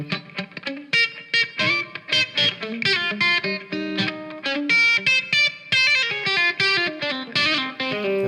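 A James Collins Redwood GTO electric guitar played through a crunch tone with its volume rolled back, loud and close, with strummed chords and picked notes in a lively rhythm that rings with a slightly gritty edge.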